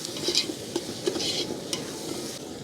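Homemade ginger garlic paste is stirred into sizzling onion and tomato in a pan for chicken dum biryani, with scraping spoon strokes over a steady close sizzle.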